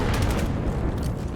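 A brief burst of low, booming gunfire from a competitive Vail match, rumbling shots packed closely together in a short dense stretch with no voices.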